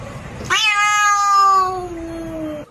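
A cat lets out a single long, loud meow with a falling pitch that trails off for about two seconds, followed by a short sharp sound at the end.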